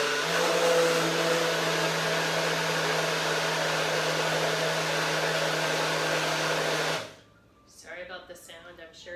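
A blender pulsing a green drink whirs loudly and steadily for several seconds, then cuts off abruptly, and a voice begins speaking in the quiet that follows.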